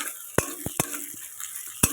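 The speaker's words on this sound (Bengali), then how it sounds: "আমি ভালো করে মশলাটা ভেজে নেব একটু পেঁয়াজটা লাল করে ভেজে নেব" Soft frying hiss of onions and spices in a pan punctuated by several sharp metallic clinks of a spatula against the pan; no voices.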